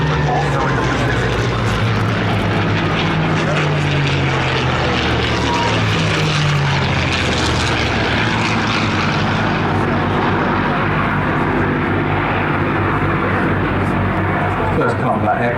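A P-51D Mustang with bubble canopy flies past at the Flying Legends air show, its propeller engine a loud steady drone that swells and shifts in pitch as it passes, with a commentator speaking over it.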